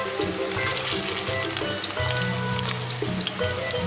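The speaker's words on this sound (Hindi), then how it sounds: "अब इसमें मैं ये सारे कबाब फ्राई कर रही हूँ" Gola kebabs of homemade beef frying in hot oil in a kadai, giving a steady, close, dense sizzle with crackling bubbles throughout and no talk.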